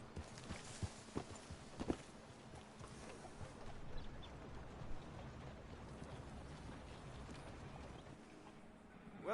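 Horse hooves clip-clop at a steady walk in Red Dead Redemption 2, set against a dense layer of game ambience, with the footfalls moderately close and fairly soft.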